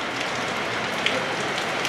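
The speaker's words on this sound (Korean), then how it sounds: "저희 하이킹 다녀오자마자 바로 비가 오네요" Steady rain patters on surfaces outdoors in the Indian Himalayas right after a hike, an even close hiss with a few faint individual drops and no talking.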